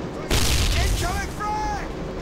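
Frag grenade blast in a first-person shooter deathmatch, one sudden loud boom followed by a rolling rumble, with voices speaking over the tail.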